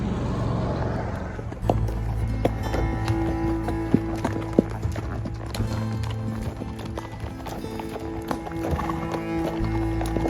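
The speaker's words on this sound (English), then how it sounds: "We're off on our horse ride." Horse hooves clip-clop in a steady walking rhythm on a trail ride in South Dakota's Black Hills, close by, with occasional snorts and creaking tack over a soft outdoor background.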